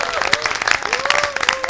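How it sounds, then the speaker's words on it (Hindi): Audience clapping at a Hindi comic poetry gathering (hasya kavi sammelan), a brief burst of applause with voices mixed in, fairly loud and dense. "मैं कहूँगा राधे कृष्ण की जय, आप ताली ठोंकेंगे"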